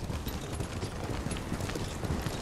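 Horse hooves in the video game Ghost of Tsushima, a fast, dense patter of galloping hoofbeats over a constant rumble of movement and ambience, loud and close with no talking.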